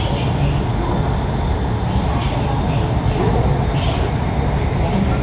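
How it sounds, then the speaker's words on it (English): A metro train in Zhujiang New Town runs at high speed, roughly 167 km/h, producing a loud, steady rumbling roar that fills the whole span without letup. "This is fast for a metro train."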